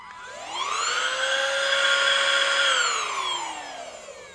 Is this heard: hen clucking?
no